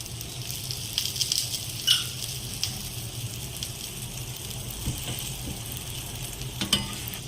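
A dosa fries in coconut oil on a pan, giving a soft, continuous sizzle dotted with small crackles and pops and a few sharper spatters.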